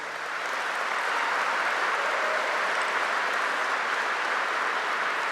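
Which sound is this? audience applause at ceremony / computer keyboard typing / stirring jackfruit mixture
audience applause at ceremony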